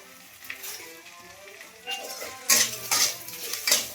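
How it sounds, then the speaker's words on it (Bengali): Spices with ginger, turmeric and salt being stir-fried in a pan, quiet sizzling at first, then loud clattering scrapes of a spoon against the metal pan in quick bursts. "দিয়ে ভালো করে আমি এটা মশলাটা কষে নিই"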